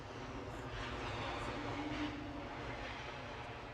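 Airliner taking off at Edinburgh Airport, a steady, broad engine roar held at a constant level for the whole stretch, moderately distant with no pauses or talk over it.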